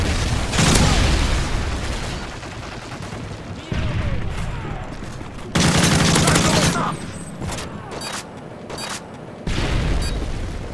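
A Predator missile strike lands in a Call of Duty Modern Warfare 3 multiplayer match, with loud booming blasts and bursts of gunfire in several heavy waves, and brief voice callouts between them.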